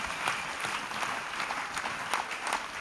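A church congregation at an evangelical service claps together in a steady, rhythmic beat, many hands sounding at once with a roomy, moderately distant crowd quality and no talking over it.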